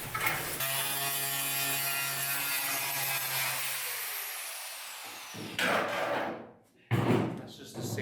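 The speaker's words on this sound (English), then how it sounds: "That's just a sanding disc I have on there." An angle grinder fitted with a sanding disc works on metal during a car firewall repair, a harsh whirring grind that winds down after several seconds, followed by brief bursts of noise.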